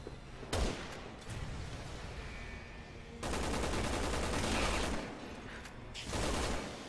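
Gunfire during a sniper fight in the video game Resident Evil 6, with dense crackling bursts of shots in loud sustained waves and sharp onsets, close and intense over game noise.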